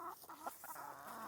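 Backyard garden chickens cluck in quick, uneven bursts, faint and somewhat distant, with no voices over them.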